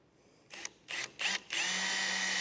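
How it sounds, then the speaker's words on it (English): A power drill bores holes in the metal of a trailer coupler, with a few short stuttering bursts and then a steady high whine, close and fairly loud, with no talking. "I got all these holes drilled"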